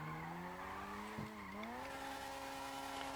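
Custom car drifting on a GTA roleplay drifting server, engine droning steadily with rising and falling pitch while tires squeal and skid continuously, close and loud, no talking.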